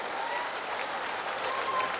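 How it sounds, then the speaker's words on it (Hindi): Crowd applause at an outdoor BJP political rally, a steady roar of many hands clapping with a faint voice briefly audible underneath. "जनार्दन पासवान जी के लिए भी ताली बजाओ"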